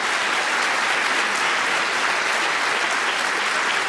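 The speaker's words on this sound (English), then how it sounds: "I would solicit your applause for them as well" Audience in a conference hall applauding staff members at a keynote session, steady continuous clapping throughout at moderate loudness with no talk over it.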